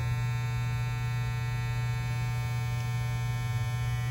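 A Stylecraft Gamma+ Ergo hair clipper runs steadily at high speed, giving a constant low electric hum with a fine buzzing edge that holds evenly throughout with no other sounds.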